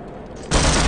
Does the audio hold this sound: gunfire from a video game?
yes